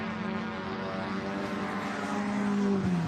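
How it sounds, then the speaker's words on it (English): A race car in the Lavant Cup accelerates down Lavant Straight at Goodwood, its engine holding a steady, loud harmonic drone that rises slightly in pitch and volume, heard alone without talk. "Accelerating his way then now down Lavant Straight, still with James Cottingham chasing after"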